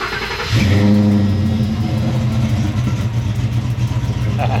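Ford Coyote V8 fires up with a loud crank and catch, then settles into a steady, throaty rumble with slight revving, heard up close.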